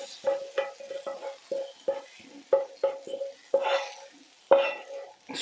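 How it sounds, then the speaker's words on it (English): Hot tarka sizzles and spits in short crackling bursts as it is poured and stirred into chana dal, with the spoon clinking against the pot several times, close and moderately loud, without any talking. "The tarka needs to be really hot and sizzling."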